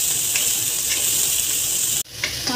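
Vegetables and soybean chunks fry in hot oil in a pan for veg pulao, a steady loud crackling sizzle up close that drops off abruptly near the end, then resumes more quietly.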